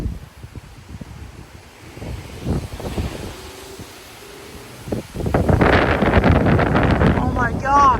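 Strong gusts from a cold front in Frisco, Texas swish through live oak trees with a rising, blustery roar and loud wind buffeting on the microphone, and a person talks over it.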